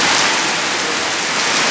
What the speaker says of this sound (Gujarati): ફૂલ વરસાદ આવે છે, ધમધોકાર.